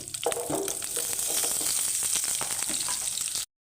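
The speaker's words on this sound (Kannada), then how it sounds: "ಹಾಗೆ ಅವ್ರು ಚಿಟ್ಬಿಡ್ತಾ ಇದ್ದಂಗೆ ಈರುಳ್ಳಿನ ಹಾಕೋತಾ ಇದ್ದೀನಿ ಕಟ್ ಮಾಡಿಟ್ಟಂಥದ್ದು" Chopped onion tipped into hot oil with mustard and cumin seeds, a sudden burst of loud close sizzling that holds steady for a few seconds, then cuts to silence.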